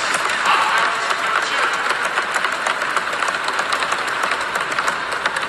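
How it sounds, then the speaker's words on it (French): Members of the National Assembly applaud together in a continuous, dense wash of many hands clapping, a steady roar of even loudness that fills the hall throughout, without pauses or speech. "je vous demande d'applaudir phonétiquement Israël Félix"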